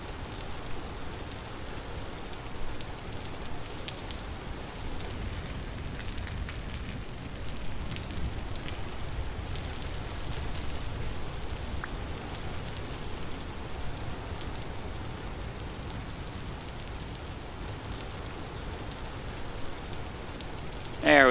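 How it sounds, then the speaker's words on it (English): Steady, loud rain pours throughout in the video game Vintage Story, a dense continuous hiss of drops with no talk over it. "Boy, that rain is loud."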